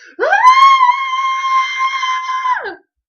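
A voice imitates a prolonged scream, one sustained shrill wail rising quickly, holding steady for over two seconds and then dropping away, loud and alone.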